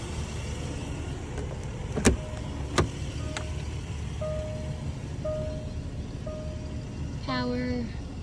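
Power moonroof motor on a British Racing Green 2015 Jaguar XJ gives a short whirring run near the end, preceded by a couple of sharp clicks and soft electronic chimes over a steady cabin hum.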